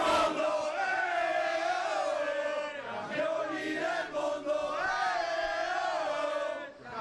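Fans of the Pantere volleyball team greet the players at Venice's Tessera airport, their crowd chanting and shouting in a loud, continuous, rhythmic wave of massed voices.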